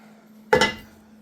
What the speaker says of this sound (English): I'm gonna cover it with the cast iron skillet.